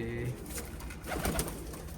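Pigeons coo in a backyard loft, a soft low burbling close by, partly overlapped by someone talking.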